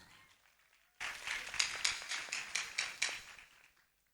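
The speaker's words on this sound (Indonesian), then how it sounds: "Tepuk tangan." A quiet audience at a school-related gathering breaks into brief, steady hand clapping that swells, holds for a few seconds with no talk over it, then fades out.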